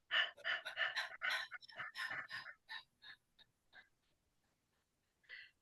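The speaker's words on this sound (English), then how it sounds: "And this time we're going to pant." A woman pants in quick, rhythmic, breathy bursts during a tapping relaxation exercise, close and clear. The breaths trail off into quieter puffs and silence, then one last breath follows.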